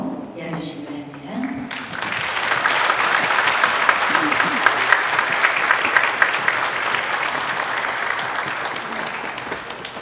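Gentle audience applause opening a Sewol ferry memorial concert, rising after a brief spoken moment into a steady, soft, continuous patter of many hands that lasts to the end.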